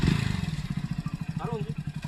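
A motorcycle engine idles and revs in a rapid, steady pulsing throb, fairly close, while someone talks briefly over it.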